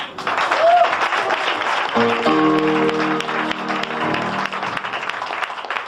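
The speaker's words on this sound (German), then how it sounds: "Ist ein Applaus wert?" Audience clapping at a German-language gathering, a steady moderate applause with a voice and some sustained musical tones heard over it in the middle.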